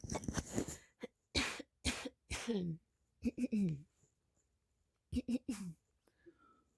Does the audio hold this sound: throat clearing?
yes